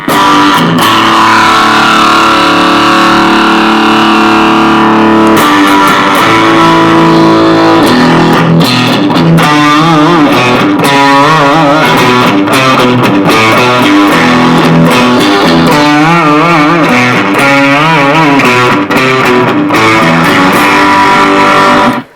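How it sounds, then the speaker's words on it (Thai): Electric guitar played through a vintage tube distortion amp turned to full gain, loud and saturated with heavy crunchy chords and riffs throughout, no voices. "เปิดสุดมันแตกขนาดไหน โอ้มันเล่นเฮฟวี่เมทัลได้เลยนะ"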